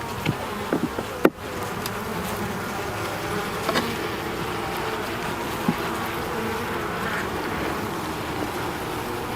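Steady buzzing of many honey bees at an open hive, hums throughout, with a few sharp knocks and clicks near the start as frames are pried apart over a constant insect drone.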